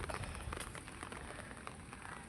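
Steady rain falling on a rooftop garden full of plants and jasmine bushes, a soft continuous patter with scattered drips, fairly quiet and even throughout, no voices.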